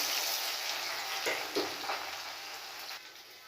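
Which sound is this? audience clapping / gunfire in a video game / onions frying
onions frying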